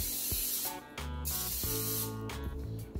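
Nonstick cooking spray hisses onto cookie sheets for bread proofing in a few short, close bursts separated by brief pauses.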